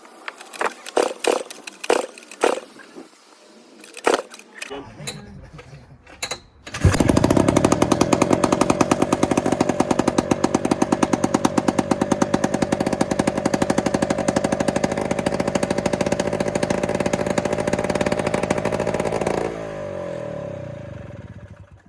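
A 2-stroke engine on an Attex 6x6 being started: several sharp pull attempts and sputters, then it catches and runs loud and rapid for about twelve seconds before winding down.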